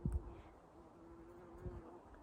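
A bee buzzes close by outdoors in summer heat, a steady low drone running through the whole moment with a couple of louder rustling bumps near the start and middle.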